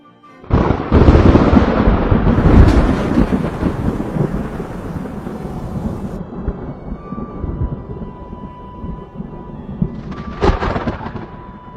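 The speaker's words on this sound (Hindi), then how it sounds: "तभी बहुत तेज बिजली कड़कने की आवाज आती है" A loud, close thunderclap bursts out and rolls into a long fading rumble, followed by another sharp crack near the end.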